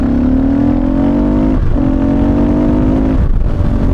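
KTM 690 Enduro single-cylinder four-stroke motorcycle exhaust revving close by, with a steady loud drone that dips twice briefly as the throttle is blipped, then returns to a sustained rev.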